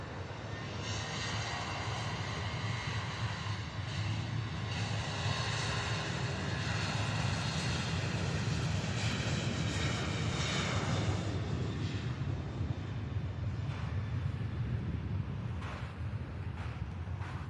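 Southwest airliner jet engines roaring at Louisville SDF airport, a loud sustained rumbling whine that swells and holds for the whole stretch, with wind buffeting the microphone.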